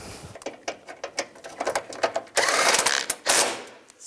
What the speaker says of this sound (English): Put the bolt back in and snug it